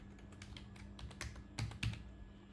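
Username and password being typed on a computer keyboard: quiet, irregular key clicks close by, with a couple of heavier strokes toward the end.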